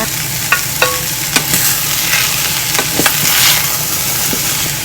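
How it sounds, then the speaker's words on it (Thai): Bamboo shoots, fried tofu pieces and sliced carrot are stir-fried in a pan, giving a steady close sizzle with scattered clacks of a utensil stirring and scraping throughout, and no talk. "ใส่หน่อไม้ลงไปผัดเลยนะคะ ตามด้วยเต้าหู้ทอดหั่นชิ้นนะคะ แครอทหั่นนะคะ"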